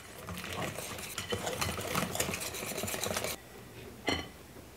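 Gluten free pumpkin crumb cake batter is stirred with milk in a bowl: dense, busy scraping and clicking strokes for about three seconds, then a pause and one last short stir, close and fairly quiet.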